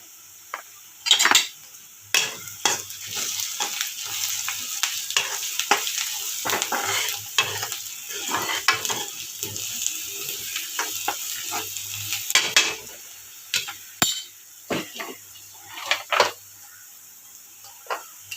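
Potato curry with turmeric sizzles quietly in a pan while a spoon stirs and scrapes, sending out sharp clinks and scrapes in irregular bursts over the soft frying.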